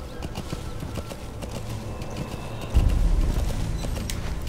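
Horse hooves in Metal Gear Solid V: The Phantom Pain clip-clop at a steady pace, growing heavier and louder partway through as if the horse speeds up, with a low rumble underneath.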